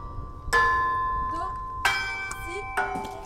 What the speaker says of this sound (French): les jeunes ont eu le droit de s'essayer au carillon dans la cour du château des Ducs de Savoie